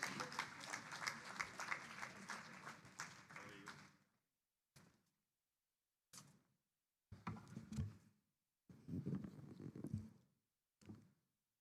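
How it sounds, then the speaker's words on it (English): An audience applauds as a speaker comes up for a goodwill message, a dense round of clapping for about four seconds, then it breaks off into a few scattered short bursts of claps separated by silence. "Please can we keep clapping?"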